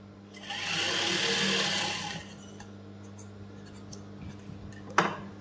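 A sewing machine stitches a shirt collar stand in a close, steady whirring burst of about two seconds, followed by quieter handling clicks and one sharp tap near the end.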